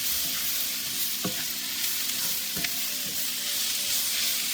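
Chicken curry with spinach is stirred in a cast iron skillet, a steady loud sizzle running throughout with a few soft scraping strokes of the spoon against the pan.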